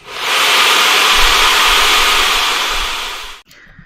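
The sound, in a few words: hair dryer blowing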